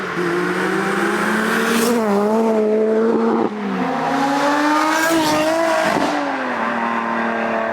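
Loud Lotus Exige sports car engines revving hard, with repeated rising and falling tones as gears shift and cars pass nearby, almost continuous throughout.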